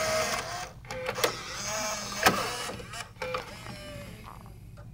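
Mechanical whirring, clicks and clunks from the CD changer inside a Bose Wave Music System as it cycles from disc to disc, a series of faint motor hums and sharp knocks heard up close without talk.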